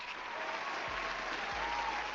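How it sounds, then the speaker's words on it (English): Steady applause from an audience, filling the space evenly and continuing without a break, with a few soft low thumps beneath it. "Give him a round of applause."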